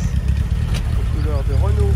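Alpine 310 car at a gathering in Versailles, a low, steady engine rumble close by, largely masked by someone talking over it.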